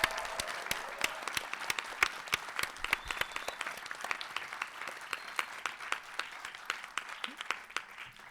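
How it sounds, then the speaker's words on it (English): A demo day audience applauds for presenting app developers, steady clapping filling the room with sharp individual claps standing out, moderately distant and without talk. "How about one more round of applause for these amazing fellows,"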